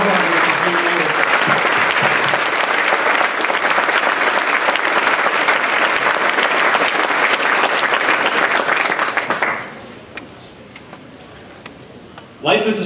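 Loud, sustained applause from a large audience at a youth scholarship ceremony runs steadily for about nine seconds before abruptly dying away, followed by a brief quiet and a voice beginning to speak.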